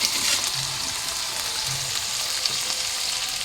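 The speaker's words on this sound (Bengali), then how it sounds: "আলুটা দিয়ে একটু নাড়িয়ে চাড়িয়ে দিচ্ছি" Potato pieces sizzle steadily in a hot pan at home while being stirred, a dense continuous hiss with soft scraping of the spoon, close and without talk.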